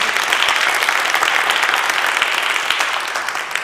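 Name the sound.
audience applause for Peter Mercer-Taylor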